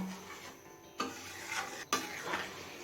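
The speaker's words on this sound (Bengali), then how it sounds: "গ্যাসের ফ্লেমটা একদম লোতে রেখেই চাল বাটাটা লাউয়ের সাথে মিশিয়ে নিয়েছি" Ground rice paste being stirred into bottle gourd in a pan over a low flame, two distinct spoon scrapes against the metal amid a soft, quiet stirring texture.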